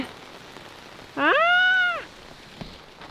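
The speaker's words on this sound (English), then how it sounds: "Here comes the rain." Steady rain hisses outdoors around a house during heavy machine work, a constant wash of patter, while a cat lets out one clear, drawn-out meow partway through.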